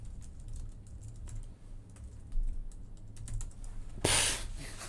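Rapid clicks of a computer keyboard being typed on in an awkward position, steady irregular tapping with a louder burst of keystrokes near the end, no voices.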